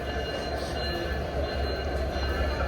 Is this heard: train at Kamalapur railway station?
yes